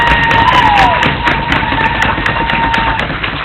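Big round of applause from an audience at the final of a national high school debate championship held in a school hall, a dense steady wash of clapping with crowd noise, loud and continuous throughout.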